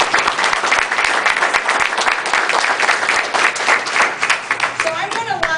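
Audience applause after a candidate's opening statement at a congressional forum for California District 1: dense, steady clapping from a crowd that continues for several seconds at even loudness.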